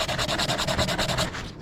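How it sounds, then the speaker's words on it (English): Steady rhythmic sanding strokes rub across the top of a razor clam gun, a PVC clamming tool, close and loud, with repeated back-and-forth passes that fade slightly at the end. "I want to sand the top here where the sanded portion is going to go"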